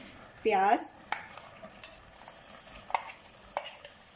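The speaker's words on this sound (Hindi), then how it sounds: "प्याज को लाइट सा हम सौते करेंगे।" Chopped onions go into a pan of hot oil to sauté, a soft sizzle under occasional clinks of a spoon stirring against the pan, while someone talks quietly now and then.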